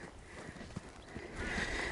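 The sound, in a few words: horse hooves as the horse stops walking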